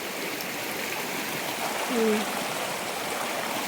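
A small stream at Padla flowing steadily, a soft continuous wash of water with a brief faint voice-like tone partway through.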